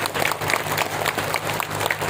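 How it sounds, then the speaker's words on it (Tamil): Applause from an audience at a literary festival gathering in Pudukkottai, honoring the event's organizer; steady moderate clapping heard from a distance, filling the brief moment. "ஒரு கைத்தட்டல்"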